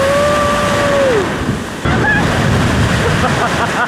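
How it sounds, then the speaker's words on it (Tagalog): Strong surf breaking on a beach at La Paz, San Narciso, Zambales, a steady loud wash of rolling waves with a person briefly speaking near the start. "Ligo tayo kaso ang lakas ng alon. Maalon dito."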